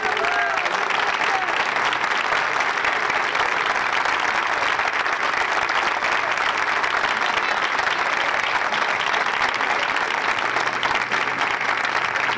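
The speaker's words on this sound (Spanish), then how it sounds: "quiero que reciban con un fuerte aplauso a Laura Echegoyen" A large audience gives a strong, sustained round of applause as a performer is welcomed onto the stage, dense and even throughout with crowd voices blended in.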